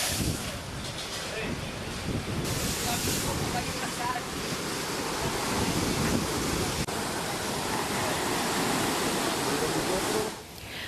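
Big waves pound the Manado coastline beside damaged seaside restaurant buildings. A continuous broadband roar of surf mixes with heavy wind buffeting the microphone and stays loud and unbroken until it drops off near the end.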